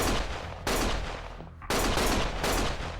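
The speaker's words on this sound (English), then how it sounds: "Stop shooting!" Gunfire in the action video game Lost Judgment comes as loud, dense, sustained bursts, with three long crashing volleys separated by brief dips, close and overpowering, with no speech over it.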